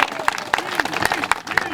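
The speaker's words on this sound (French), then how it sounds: "Une vague d'applaudissements pour le créateur du Vendée Globe, Philippe Gentot" A crowd applauds Philippe Gentot, creator of the Vendée Globe sailing race, a short wave of clapping with sharp hand claps standing out and a voice speaking over it.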